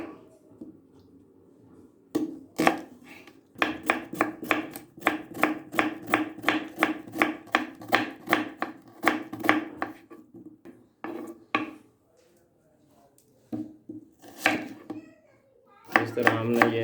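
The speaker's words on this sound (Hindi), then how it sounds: "इस तरह हमने ये प्याज काटे हैं।" A knife chops onions on a board in quick, rapid strokes, the sharp taps coming in bursts with brief pauses between them, recorded close, with faint voices in the background.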